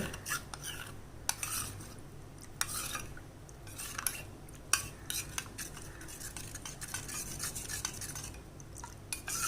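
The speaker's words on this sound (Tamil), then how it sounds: "அதை கொஞ்சம் ஊற்றி நம்ம மிக்ஸ் பண்ணிக்கலாம் கட்டிகள் இல்லாமல்." A spoon stirs custard powder into cold unboiled milk in a bowl for mango custard, giving steady scraping and clinking against the dish with a few sharper taps, close and continuous, no voices.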